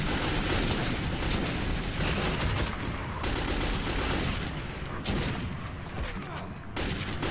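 Gunfire in Metro 2033, a dense, loud run of rapid shots and booms from a first-person shooter, continuous for several seconds with brief gaps near the end.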